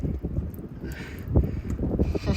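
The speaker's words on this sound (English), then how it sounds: "That wind is spraying all over my face." Gusty wind roars and buffets a microphone outdoors during fuel filter replacement on a 2006 Ford F-350, with rumbling, uneven bursts across the whole moment.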